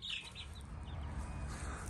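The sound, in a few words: chickens clucking on a homestead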